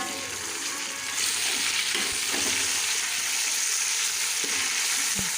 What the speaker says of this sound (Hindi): गोश्त की भुनाई हम करते रहेंगे 10 से 15 मिनट तक।